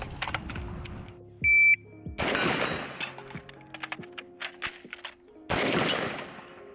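AR-15 rifle shots fired during a reload drill, sharp loud cracks in short bursts separated by brief gaps, with a timer beep near the start.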